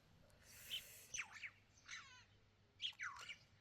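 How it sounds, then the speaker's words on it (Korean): Several odd bird calls, squawks and warbling chirps in short bursts with pauses between, heard outdoors at dawn near Tsenkher Hot Springs, Mongolia, against a quiet background. "희한한 새소리 많이 들리죠?"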